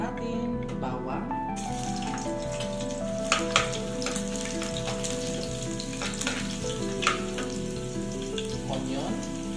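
Garlic sautéing in hot olive oil at the start of a bean sprout dish, a steady dense sizzle close to the pan running throughout, with a few light utensil clinks and a faint tonal hum in the background.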